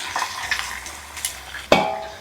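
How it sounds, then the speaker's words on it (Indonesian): Fish goes into hot oil in a frying pan, giving a steady, hissing sizzle with scattered crackles and a sharp clatter of the pan near the end, close and moderately loud, with no speech. "Ini minyak sudah panas, kita masukin ikan."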